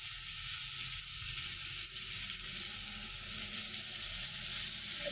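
Food sizzles on a hot griddle over an ocakbaşı-style grill, a constant close, loud frying hiss without breaks and with no voices.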